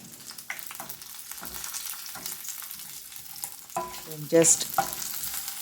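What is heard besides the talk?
sautéing garlic, tamarind and ridge gourd peel in oil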